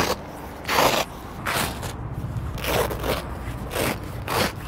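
Velcro straps being pulled apart on a New Age Wayfinder tent during pack-up, a series of about five loud ripping bursts spaced roughly a second apart, close by and with no talking.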